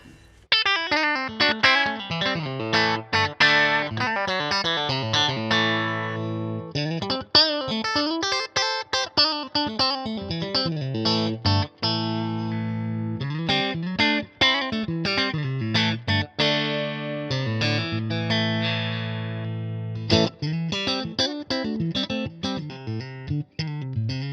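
A Music Man Cutlass electric guitar plays distorted riffs with a shimmering chorus effect, loud and sustained, played continuously with brief gaps between phrases; no voices.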